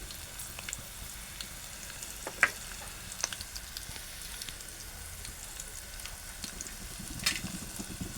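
Turmeric goes into a hot oil tempering with chili pieces for Maharashtrian buttermilk kadhi, giving a soft, steady sizzle with a few sharp pops and crackles near the middle and end, and no voices.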